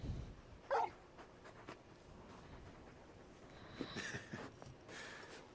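Torgal, the large dog from Final Fantasy XVI, gives faint short whimpers and snorty sniffs, a few soft brief sounds scattered over a quiet background.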